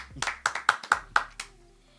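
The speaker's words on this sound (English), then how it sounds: "y'all give him a round of applause" At a producer showdown event, a small group claps about seven times in a quick, even rhythm, sharp close hand slaps that trail off after under two seconds.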